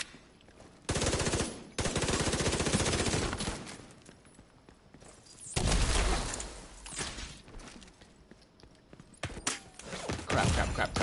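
Rapid bursts of P90 submachine gun fire in The Division 2, loud and close, with several sustained volleys broken by short pauses, plus quieter in-game sounds and voices between the bursts.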